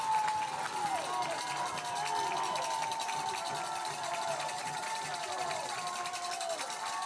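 A loud crowd roars continuously in the stands at a college football game between Reinhardt University and Cumberland University, a sustained wash of noise with whistles and calls under an announcer's commentary.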